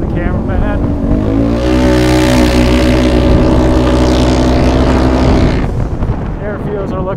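An E85-fuelled Polaris RZR XP Turbo with an Aerocharger turbo, on 28-inch paddle tires, revs hard to about 8,100 RPM, holding a loud, rising engine roar for several seconds before dropping back.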